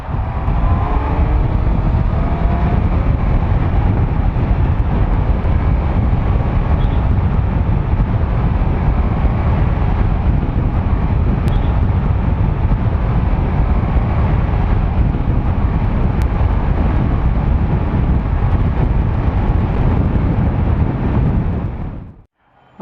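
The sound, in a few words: motorcycle stock exhaust while riding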